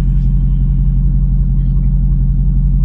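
Car pulling up, its engine a close, steady low rumble that stays constant throughout.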